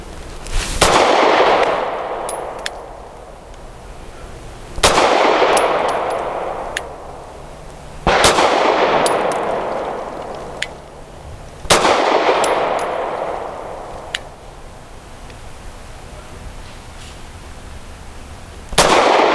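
Grand Power P1 Ultra pistol fired with Colt / Double Tap National Match 124 grain ammunition at steel targets: five loud, sharp shots spaced a few seconds apart, each followed by a ringing decay, with no talking.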